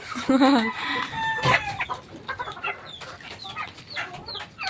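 Backyard pet chickens cluck close by in a short series of calls, with a rooster crow early on and scattered clucks continuing afterward.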